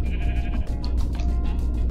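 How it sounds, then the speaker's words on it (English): Sheep in the Minecraft video game bleat loudly and repeatedly, a close nasal game sound that runs continuously with no talking over it. "We got a pink sheep over there."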